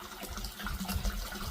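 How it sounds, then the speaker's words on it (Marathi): Water falling from a stone dragon's mouth into the Omizuya basin at a shrine in Nikko, Japan, a soft steady splashing trickle, faint and close. "त्या ड्रॅगनच्या तोंडात ना ते पाणी पडत आहे"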